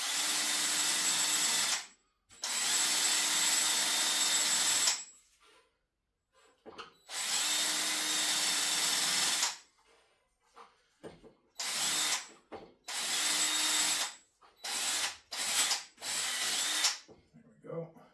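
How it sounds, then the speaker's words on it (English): Power drill spinning a wire brush against the end of an old 3/4-inch steel gas pipe, cleaning off hardened cutting oil, in long whirring bursts followed by shorter stop-start runs, loud and close with no talk. "I'm going to brush that off real quick with the drill."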